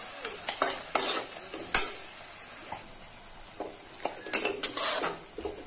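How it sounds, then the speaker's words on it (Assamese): Ground curry leaf paste frying in a pan, with a steady hiss of oil and repeated scraping and clinking of a spoon against the metal, close by, no talking. "মই এতিয়া এনেকে ভাজি থাকিম"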